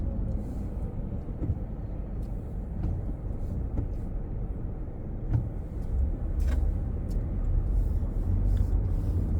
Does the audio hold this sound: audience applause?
no